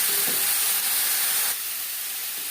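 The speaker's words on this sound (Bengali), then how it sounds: "আলু ফুলকপির সাথে আলুও হালকা করে ভেজে নেব" Boiled potato and cauliflower pieces fry lightly in a pan with a loud, close, continuous hissing sizzle that eases off partway through.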